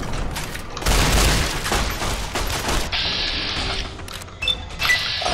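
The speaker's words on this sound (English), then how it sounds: "I didn't mean to shoot you guys!" Gunfire in a video game: a loud burst of rapid shots and booms in the first few seconds, then continuing sharp cracks and electronic bursts over a steady noisy backdrop.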